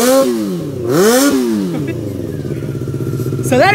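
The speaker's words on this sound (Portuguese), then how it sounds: "o piazinho acelerando, vamos lá." A lowered car's engine revs hard in sweeping rises and falls, then settles into a rough, loud burbling rev, close by at a street gathering of lowered cars.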